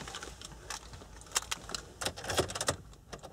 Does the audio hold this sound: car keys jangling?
yes